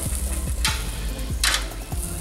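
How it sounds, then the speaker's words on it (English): Steak flipped over in a hot pan, steady loud sizzling and frying with two bright bursts of spitting as the meat is turned and lands, close up and without talk. "after 4 minutes, our steak's gonna come out, and we're just gonna flip it over"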